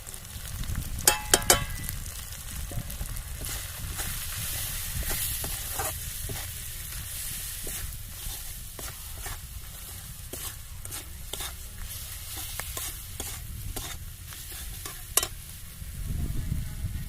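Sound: ground chilli, cumin, turmeric and pepper frying and stirred in pan

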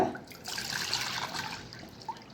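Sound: water poured into a bowl

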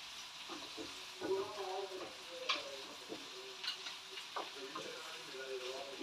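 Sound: vegetables sautéing in a pan

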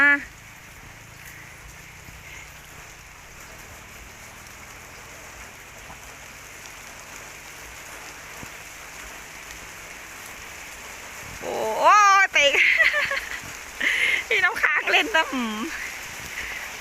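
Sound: rain falling

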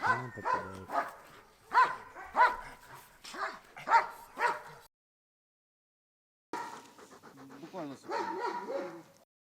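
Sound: Doberman dog barking and whimpering

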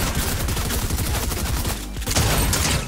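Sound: gunfire in the video game Fortnite

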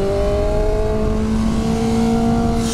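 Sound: BMW M1000R motorcycle accelerating, not full throttle

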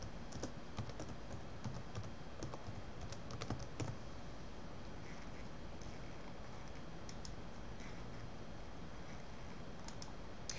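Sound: typing on a computer keyboard

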